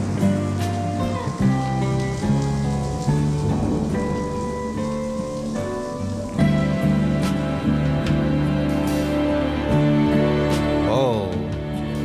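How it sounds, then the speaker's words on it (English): A rain effect in a song gives a steady patter of falling rain, blended under dense instruments and sustained tones that fill the whole passage. "In the rain too, that's cool."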